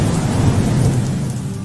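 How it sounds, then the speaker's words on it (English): Heavy downpour with thunder during a catastrophic storm in Nanning, Guangxi, China: a dense, steady roar of rain with a deep rumble underneath, loud and continuous, with no voices. "found itself in the grip of a catastrophic downpour on May 19th"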